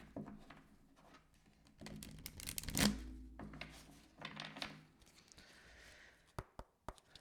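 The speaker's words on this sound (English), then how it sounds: "Let me just do a shuffle" A deck of tarot cards being shuffled by hand, a soft papery riffle and patter close up, with a louder burst of card noise in the middle and a few sharp taps near the end.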